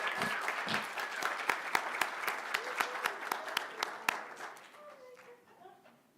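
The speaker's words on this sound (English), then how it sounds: "let's welcome all of our participants back to the stage for another round of applause" An audience at a state poetry recitation finals applauds participants, starting as a crowd and narrowing to rhythmic individual claps before dying away into quiet murmuring.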